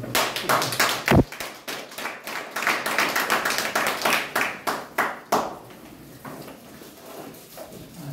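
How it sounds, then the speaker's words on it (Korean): An indoor audience at a lecture on hospice policy claps to welcome the speaker, a dense burst of close applause that thins into scattered individual claps before fading. "우리 강사님 나오실 때 박수로 한번 환영하시죠"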